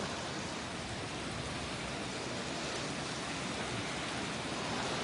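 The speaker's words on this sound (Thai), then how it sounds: "ฝนตกมาจังสี่" Heavy rain pours steadily in Loei province, Thailand, as a dense, even hiss of falling water fills the whole stretch without pause, close and moderately loud, with no voices.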